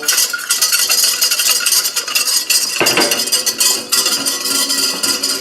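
White mushroom sauce thickened with flour bubbling in a pot while a utensil stirs it: loud, continuous, close scraping and clinking of the spoon against the pot over a soft bubbling hiss, with no talk.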